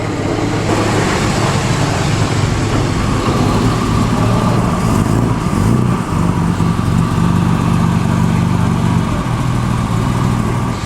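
A vintage Jaguar SS100 from England, seen at the Concorso d'Eleganza Villa d'Este, runs loud and close; the engine note holds steady and rumbling throughout, with no talk heard.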